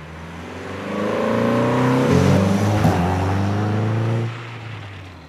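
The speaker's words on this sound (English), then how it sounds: "This one has an aftermarket exhaust, so it's a little bit raspy." A lowered Renault Sport hatchback with a 2-litre 16-valve engine and a raspy aftermarket exhaust, revving up loudly with a rising, buzzy tone, holding high for a couple of seconds, then dropping back to idle.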